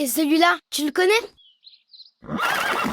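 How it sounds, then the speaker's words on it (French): Horse whinnying in a loud, close, shaky neigh that follows a child's spoken question, with faint bird chirps in the short gap between. "Un cheval."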